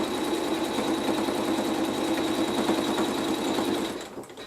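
A sewing machine stitches a quilt block seam with a steady, fast mechanical whirring and rhythmic needle thumping, close and continuous before winding down at the end.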